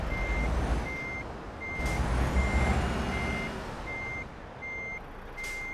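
A DAF XF Euro 6 truck in American Truck Simulator backs up with a steady, evenly spaced reversing beep over a deep engine rumble, joined by brief hisses of air release, with no voices.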